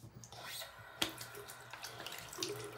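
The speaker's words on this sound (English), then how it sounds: "Okay, I wash my hands." Water runs from a tap during handwashing, a quiet, steady splashing with small clinks and drips, heard faintly and close.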